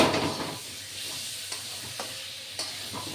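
A spoon stirs ginger-garlic paste in a frying pan for a Bengali mourala fish curry with katoya stems, heard as a sizzle that fades after an opening burst, broken by several sharp scrapes and taps against the pan.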